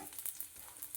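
Cumin seeds frying in hot oil for a pineapple curry, a faint soft crackling sizzle with small irregular pops, quiet and close, no voices.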